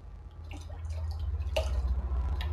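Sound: pouring orange juice into vodka

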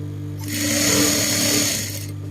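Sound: sewing machine stitching polka dot cotton fabric

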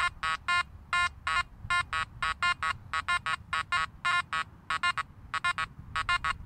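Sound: Makro Gold Kruzer metal detector signal over nail board

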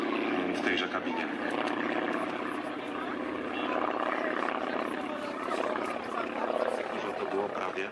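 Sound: TS-8 Bies propeller training aircraft flying at air show

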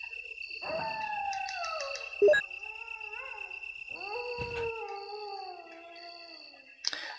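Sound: dog howling in Resident Evil 1 video game

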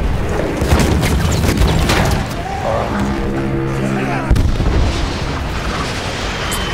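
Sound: artillery cannon fire in video game Battlefield 1

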